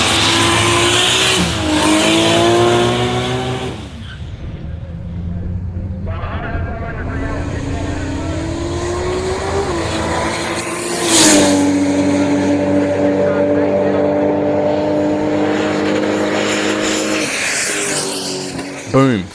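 Holden drag race car weighing 1646 kg with 325 street radial tyres making a turbocharged pass: a loud engine roar climbing through gear changes with rising and falling pitch, a brief tyre squeal, and a voice talking over it.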